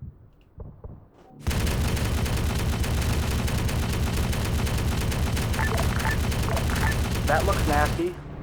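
A ZSU anti-aircraft cannon in a military shooter game near a factory opens up in a dense, relentless burst of rapid booming fire lasting several seconds, with faint voices talking under it.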